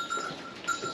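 Goats kept for milking cheese bleat faintly in a village farmyard, two short nasal calls over a steady outdoor hiss.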